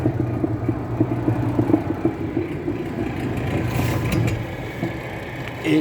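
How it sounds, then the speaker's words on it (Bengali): A large Hitachi washing machine under repair runs its wash cycle, a steady low mechanical hum and whirring rumble from the motor and gearbox, close and continuous with slight fluctuations. "এই এইবার ওয়াশিং কাপড় ধোয়ার মেশিনটা এই চালু করতেছে"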